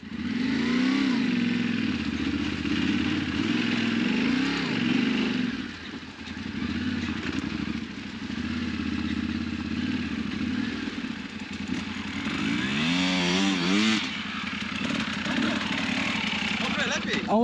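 A Yamaha Tenere 700 motorcycle engine accelerates during riding-skills practice, a steady loud drone that climbs in pitch near the end as the throttle opens, with voices talking over it.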